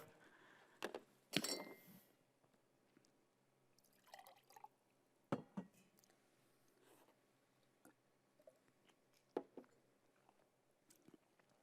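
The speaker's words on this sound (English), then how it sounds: "Let me grab some water." A glass of water is picked up and sipped in a quiet room: scattered clinks of glass, a short pour or splash, soft drips and swallowing sounds, separated by pauses.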